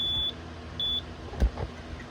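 A Bosch B9512G alarm panel keypad gives two short, thin beeps about half a second apart, followed by a soft thump and faint handling noise in a quiet room.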